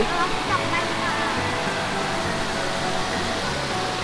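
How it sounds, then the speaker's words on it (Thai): Strongly flowing water in a stream at a resort in Nakhon Nayok, a steady, close rushing roar that fills the whole stretch without pause. "น้ำไหลแรงมากเลย"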